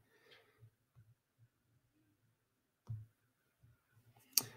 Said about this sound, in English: my hand hit the keyboard and it's all good